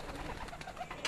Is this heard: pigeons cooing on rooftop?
yes